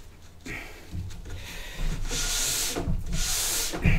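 A cork rubbed briskly over a freshly waxed snowboard base, giving a close, dry, scratchy friction that swells into longer continuous strokes, with no talk.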